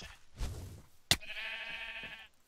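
A sheep in a video game gives a short bleat, followed by a longer wavering bleat, close and clear with no talk over it.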